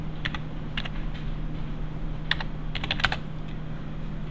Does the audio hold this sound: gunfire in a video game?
no